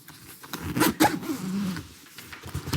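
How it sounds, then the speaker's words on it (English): The middle zippers of a Nomatic camera backpack are pulled open in a few quick, close rasping strokes, with brief handling sounds between them and no talking. "Yeah, the middle zippers."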